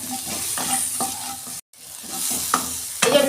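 Spoon stirring mango chutney with turmeric in a frying pan, giving a steady close sizzle with repeated scraping strokes and one brief break in sound.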